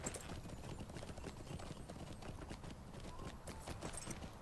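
Horse hooves clip-clop steadily and quickly in the video game LOTRO, a dense, even trotting rhythm that runs throughout with no talk over it.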